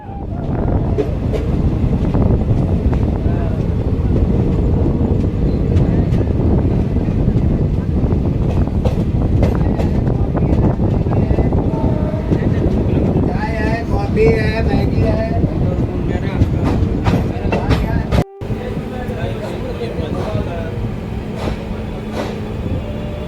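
Loud, continuous rumble and rattle of a train running on rails, heard up close with a wind-buffeted roar and repeated clacks. A brief dropout occurs before a steadier, quieter hum takes over.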